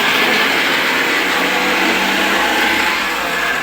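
A mixer grinder whirs steadily in a home kitchen, a loud continuous motor drone with a bright buzzing hum that holds without pause and no voices over it.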